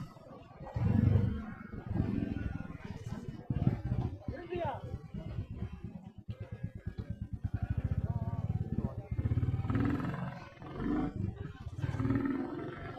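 A motorcycle on a city road revs and accelerates in rising bursts, its engine loud and close, while someone talks over it throughout the ride.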